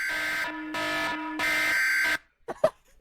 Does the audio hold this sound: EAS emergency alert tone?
yes